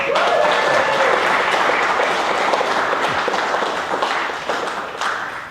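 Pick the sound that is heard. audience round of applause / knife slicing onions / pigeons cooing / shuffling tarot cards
audience round of applause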